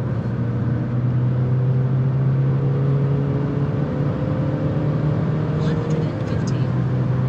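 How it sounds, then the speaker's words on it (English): A BMW E87 123d accelerating hard in fourth gear on the Autobahn, its engine a loud, steady droning hum inside the cabin with road and wind noise mixed in throughout. "now let's start from the fourth gear and see how fast we can get to 200s."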